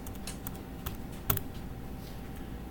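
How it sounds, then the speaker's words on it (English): Quick taps on a calculator keypad sound up close as a math problem is keyed in, with several light clicks and one sharper press near the middle. "I'm just going to type this in."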